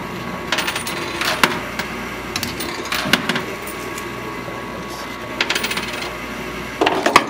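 Coins clattering and dropping in a high-risk arcade coin pusher machine, several separate bursts of metallic jingling against a steady low mechanical hum, close and fairly loud.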